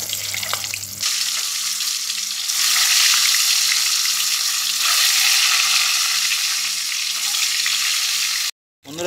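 Double-yolk eggs sizzle loudly in hot oil seasoned with salt and turmeric, a steady dense crackle that starts abruptly after a low hum and runs unbroken until a brief cut near the end, with no voices.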